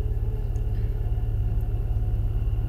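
Steady low engine rumble of a car being driven, likely on a dirt road, in the horror game Fears to Fathom: Norwood Hitchhike; a continuous pulsing drone with no talk.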